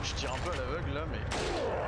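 Gunfire in the survival horror game Resident Evil 4, a dense burst of loud shots fired blindly in gameplay, layered with music and game effects throughout.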